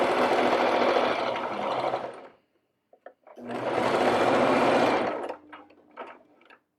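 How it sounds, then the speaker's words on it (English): A sewing machine runs a straight stitch joining the front and back of a fabric mask along the bottom, buzzing in two steady bursts with a short pause and faint handling clicks between them. "Okay, so straight stitch, we're just sewing the front and the back together at the bottom now."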